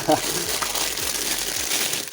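Gloved hands peel and crinkle packing tape while opening a parcel, a close, continuous plasticky rustle with a few soft thumps, as a voice talks over it.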